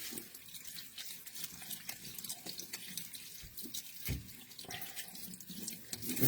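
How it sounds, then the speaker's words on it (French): A tap runs steadily while a hand is rinsed under it, the water splashing and hissing continuously at close range, with small drips and splashes. "Je vais juste rincer ma main pour éviter d'enluminer mon pull."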